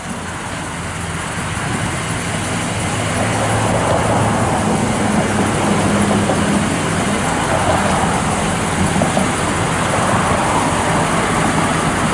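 A 1970 Buick Skylark convertible idles with its engine running in a smooth, steady, fairly loud drone that swells slightly after the first few seconds and holds evenly throughout, with no voices.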